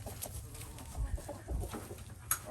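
A Cornish Cross meat chicken clucks in low, soft bursts at moderate distance, a few short calls over a faint farmyard background without talk.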